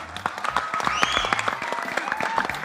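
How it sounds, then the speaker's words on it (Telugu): An audience applauds at a film pre-release event, a burst of scattered, moderately loud claps with crowd noise and a faint tonal sweep behind it. "she deserves this claps really"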